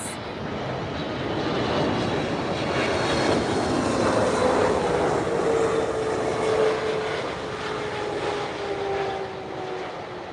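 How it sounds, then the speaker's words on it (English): A Boeing 777 lands at Lisbon Airport on a cloudy, windy evening, its loud engine roar swelling and holding steady, with a descending whine running through the noise. No one speaks. "This is the 777. There it comes."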